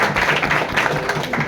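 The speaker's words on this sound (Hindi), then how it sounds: "बहुत बढ़िया, जोरदार तालियां।" An audience claps in a short, dense burst of applause at a live talk or seminar, loud and close, lasting only a moment with no speech over it.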